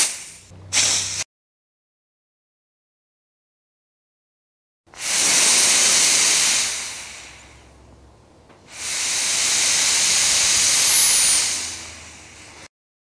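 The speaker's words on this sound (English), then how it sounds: "get out the lava llama and start steaming" A steamer blasts hot steam into glued dovetail joints of oak drawers from a 1930s desk, two long loud hissing bursts after a short opening puff, with quiet gaps between.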